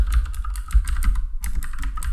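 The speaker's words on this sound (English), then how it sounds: "Just select the text tool up here and click on your text box and start typing." Steady typing on a computer keyboard while entering text in video editing software, a close, continuous run of quick clicky keystrokes with brief pauses and no talking.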